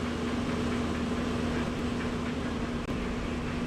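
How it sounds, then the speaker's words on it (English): Steady airport ambience at a cockpit in Atlanta, Georgia, in Microsoft Flight Simulator 2024 aboard an MD-11 airliner: a continuous broadband wash with a constant low engine-like hum, even and unbroken throughout, no voices. "Alright, so we just got airport sounds."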